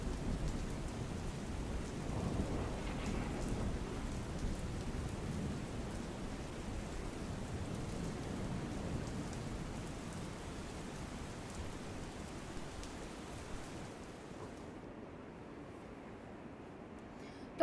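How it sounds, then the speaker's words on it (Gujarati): Heavy late-night rain falls over Lunawada in Mahisagar district, Gujarat, a steady, dense hiss of downpour with low thunder rumbling underneath, easing slightly toward the end. "જિલ્લામાં લુણાવાડા, સંતરામપુર, કડાણા સહિતના વિસ્તારમાં મોડી રાત્રે સાર્વત્રિક વરસાદ વરસ્યો હતો"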